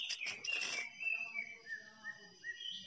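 A wild green leafbird calls in a forest, a burst of bright chattering notes followed by a run of clear, sliding whistles repeated at a quick, even pace, fairly faint and alone.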